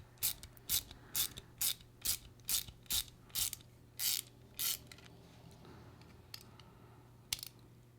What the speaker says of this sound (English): I think I'm going to use the Mac Tools Mini Ratchet